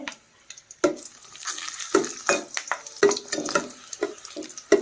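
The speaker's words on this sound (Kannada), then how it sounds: "ಬ್ಯಾಡಗಿ ಮೆಣಸಿನ್ಕಾಯಿನ ಈ ಥರ ಚಿಕ್ಕ ಚಿಕ್ಕಕ್ಕೆ 2 ಪೀಸ್ ಮಾಡಿಕೊಂಡು ನಾವು ಇದನ್ನು ಫ್ರೈ ಮಾಡ್ಕೋಬೇಕು" Small pieces of Byadgi dried red chilli fry in hot oil for a Karnataka-style holige sambar, with a close, continuous sizzle broken by repeated sharp stirring scrapes at a roughly one-second rhythm.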